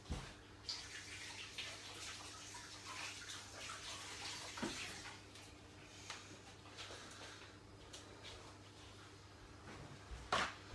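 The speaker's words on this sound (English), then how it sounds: "Let me wash my hands" Hands being washed under a running kitchen tap during a cookery lesson, a steady soft rush of water with splashes and a few clinks, fairly faint and continuous for about ten seconds without speech.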